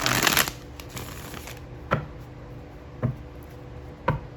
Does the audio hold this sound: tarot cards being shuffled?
yes